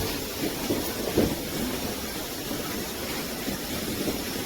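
Steam locomotive number 475 on the Strasburg Railroad in Pennsylvania gives a steady broadband hiss and rumble of running steam, with a few faint knocks standing out near the start, on a hot, humid day.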